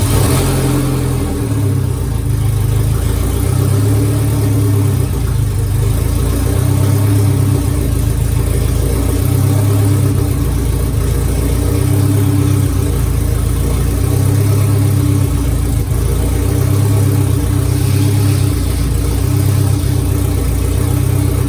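An Acura Integra fitted with giant radial tires revs in neutral while its wheels spin freely; the engine drones steadily with rhythmic surges every couple of seconds, loud and close, no talking.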